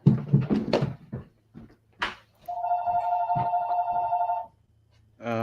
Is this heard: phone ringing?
yes